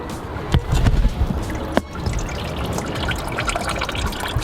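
Motor oil drains from the oil pan of a Chrysler 300C into a catch pan, making a steady close liquid trickle and splatter. A couple of sharp knocks stand out early on.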